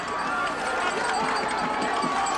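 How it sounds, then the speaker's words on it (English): Partisan crowd at a 1979 Class AA Super Bowl high school football game between Shenendehowa and Amsterdam, heard from high above the bleachers as a steady, dense roar of cheering and voices throughout. "You can hear the partisan crowd on the near side of the field where we're high above the bleachers."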